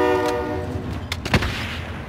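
A train horn blares briefly at the start in a video game, followed by a sharp bang and rumbling noise, with no talking.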